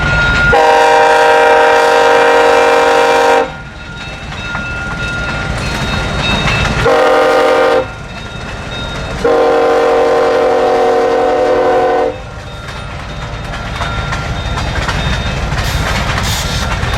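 A CSX SD23T4 Tier 4 locomotive on a local freight passes close by, its horn sounding in three loud, long blasts over a steady rumble and rolling wheel noise.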